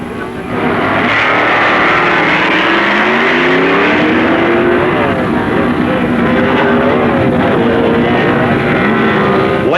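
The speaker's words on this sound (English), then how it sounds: "Dick Landy's modified production Dodge has drawn Carl Houchin Chevy from Kentucky." A modified production Dodge and a Chevy drag race at a 1969 Street Eliminator event, their engines roaring loud and close with rising, overlapping revs through the run.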